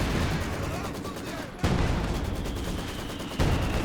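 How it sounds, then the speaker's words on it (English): SU-76 artillery barrage in Company of Heroes 2, a continuous battle din with two sharp explosive impacts landing a couple of seconds apart amid ongoing fire, with a voice talking over it. "doubles SU-76 barrage"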